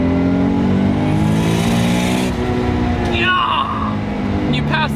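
A 500-horsepower RB26DETT engine in a Nissan 300ZX Z32 winds up past 7,000 RPM to a high-pitched whine, drops briefly as it shifts, then climbs again, with a voice speaking over it.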